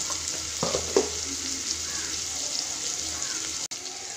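Onions frying in a pan, a continuous close sizzle with a couple of brief stirring scrapes near the start, no voices.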